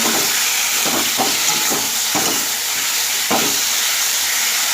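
Ground coriander and cumin sauté in a pan for a Bengali fish curry with green banana, a steady close hiss of frying with a few soft scraping stirs.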